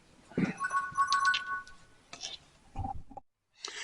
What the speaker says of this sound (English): as you probably heard, the phone went then